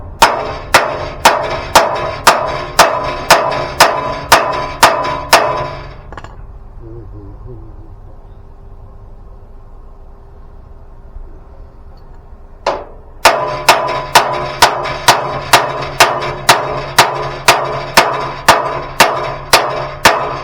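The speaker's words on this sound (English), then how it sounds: "I might have to get a bigger hammer." Hammer blows ring out while building a kayak trailer, a steady run of sharp metallic strikes at a brisk even pace, pausing for several seconds of near quiet before resuming the same rhythmic pounding up close.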